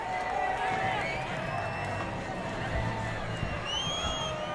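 A big grandstand crowd roars at a NASCAR Cup Series race in New Hampshire, a steady, dense wash of cheering, whoops and clapping that stays loud throughout, with bits of talk mixed in.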